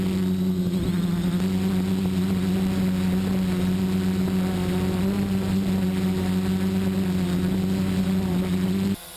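A small GPS drone hovers and strains to lift a GoPro camera. Its propellers give a loud, steady, close buzzing drone that lasts the whole time and cuts off abruptly at the end.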